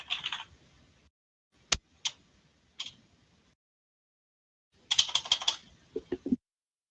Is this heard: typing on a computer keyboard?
yes